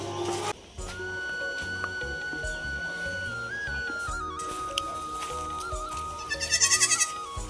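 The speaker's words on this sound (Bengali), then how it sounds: "এটা আমার ফেভারিট ছাগল।" A goat in a village setting lets out a single wavering, pulsing bleat near the end, heard over a steady whistle-like tone and quiet background.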